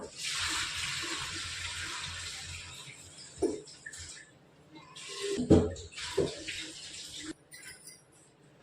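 Water runs in bursts over chickpeas being rinsed in a kitchen, a hissing splash that starts, pauses and returns several times with a few soft clunks.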